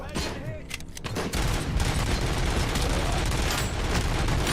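Gunfire in the RoboCop video game: a dense, continuous barrage of rapid shots and booms, loud and unbroken after a brief quieter opening with some talk.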